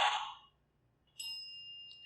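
During a paranormal investigation at Four Peaks Brewery, a small bell gives a single clear ding that rings on as a steady tone, coming after a soft breathy sound and a pause of near silence.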